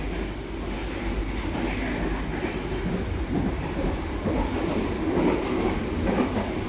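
An economy-class train from Jakarta to Yogyakarta rumbles steadily along the rails, with a continuous low roar and faint rhythmic clatter of wheels heard from inside a carriage.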